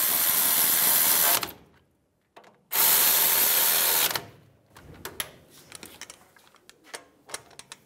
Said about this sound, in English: Get those started. Tighten them down.